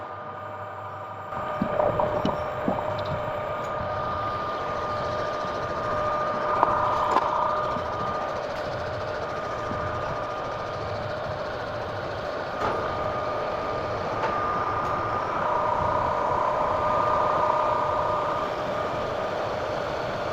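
A lathe spins up and runs steadily while turning a steel spur gear blank, giving a continuous mechanical hum with a faint whine that holds at an even level throughout.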